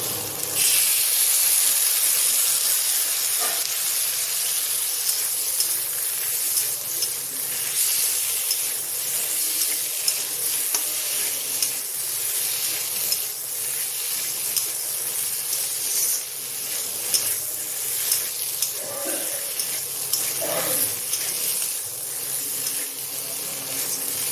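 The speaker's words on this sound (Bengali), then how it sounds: "আলু পোস্তটা এই যে পোস্ত বাটা হয়ে গেছে দিয়ে দিচ্ছি" Poppy seed paste sizzles in a hot pan while aloo posto is cooked, a steady broadband hiss that holds close and fairly loud throughout, with faint scrapes and small pops over it and no talk.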